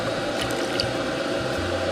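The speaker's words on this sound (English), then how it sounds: "now we're putting in 1 egg and a cup of evaporated milk." Egg and evaporated milk being mixed into a sweet batter, a steady wet squishing and sloshing that runs continuously and close by, with no talking.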